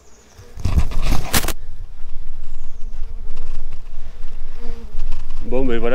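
German wasps buzzing around an underground nest at an aquatic centre, a steady close droning hum throughout, with a loud burst of handling noise near the start and a brief warbling tone at the end.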